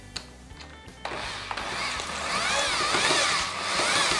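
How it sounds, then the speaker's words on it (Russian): An electric grinder grinds peppers for adjika. The motor whirs close and loud after a short start, with a churning, slightly varying pitch that runs steadily to the end. "мы начинаем крутить перец"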